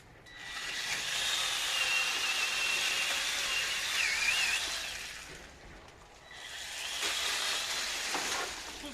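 Metabo MS 18 LTX cordless battery chainsaw running, a high electric whine that holds steady for about five seconds, stops briefly, then spins up again, near and moderately loud with no talking.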